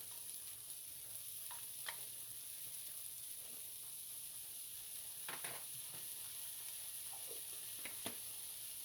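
Minced garlic frying in a pan for goulash, a steady quiet sizzle broken by occasional spoon scrapes and clicks as it is stirred, with no talking.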